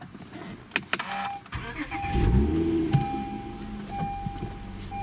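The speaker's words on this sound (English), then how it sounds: "I'll go ahead and start the car up for you guys" A 2016 Honda Accord Coupe engine cranks after a few cabin clicks and catches, settling into a steady low idle with a brief rise in revs, heard from inside the car.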